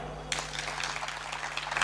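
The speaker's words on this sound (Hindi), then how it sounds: "ताली हमारी" An audience at a spiritual discourse breaks into applause, a dense patter of many hands clapping that starts abruptly and continues evenly over a low background hum.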